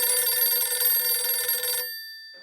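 A cell phone call rings out after a number is dialed beside a broken-down school bus on an interstate, with a steady electronic ringback tone that cuts off near the end, fairly close and alone.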